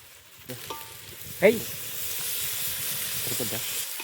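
Spices frying in a pan with turmeric and curd for jackfruit biryani, a steady sizzle and hiss with a brief louder stir partway through, heard under occasional speech.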